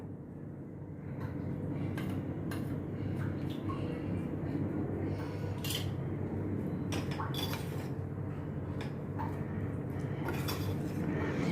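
A spoon stirs chana chaat in a bowl, giving faint, scattered clinks and scrapes over a low, steady background hum.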